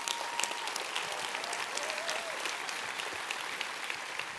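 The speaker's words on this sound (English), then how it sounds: "I want to give a big round of applause for everyone who organized one of these community hubs" A crowd at the Devcon SEA conference closing ceremony applauds in a continuous, even wash of clapping, moderately loud and without talk.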